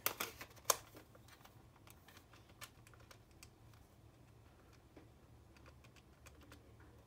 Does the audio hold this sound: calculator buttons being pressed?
yes